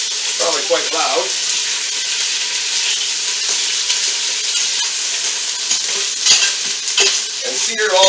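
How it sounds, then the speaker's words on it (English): Beef pieces searing in a hot pan for an English beef and ale stew, a loud close continuous sizzle with stirring and scraping of the pan, and brief voices in the background. "sear it all around until it's brown on all sides"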